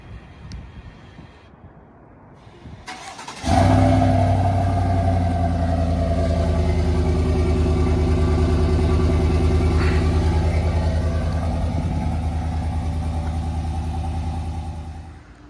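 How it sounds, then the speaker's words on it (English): A 2020 Chevrolet Silverado with its factory single side-exit exhaust starts up after a few seconds of quiet and settles into a steady, rumbling idle that holds loud and close before easing slightly at the end. "this is a 2020 Silverado with the factory single exits coming out the side, factory exhaust."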